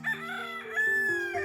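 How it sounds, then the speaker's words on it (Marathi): A rooster crows in a Konkan village, one loud, drawn-out, strained cock-a-doodle-doo heard fairly close and alone. "हा आरवतो, एकदा तो आरवतो."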